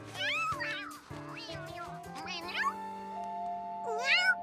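A cartoon cat meows repeatedly in rising and falling, wavering cries while struggling with a blue ribbon tight around its neck, close and clear with musical tones underneath.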